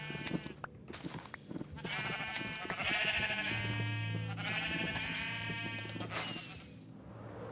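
Sheep bleat loudly and repeatedly, with long wavering cries close by and some rustling and shuffling around them.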